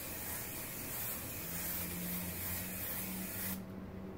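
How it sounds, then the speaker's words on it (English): Hairspray sprayed onto a glass print bed of an FLSun QQ 3D printer: a continuous, fairly faint aerosol hiss lasting about three and a half seconds before cutting off, with no voices. "So, I recommend you take some hairspray."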